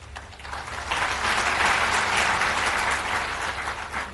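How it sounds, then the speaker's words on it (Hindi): A crowd at an evening Hindu satsang applauding, the clapping swelling to a full, dense burst and then holding steady before easing slightly. "तालियां तो बजाते हो"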